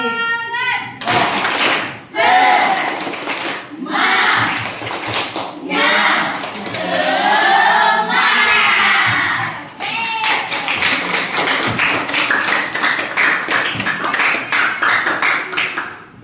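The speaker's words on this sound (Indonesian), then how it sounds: "Tepuk semangat." A school class claps out a rhythmic spirit clap in bursts of sharp, patterned claps alternating with children chanting together, loud and close in a classroom.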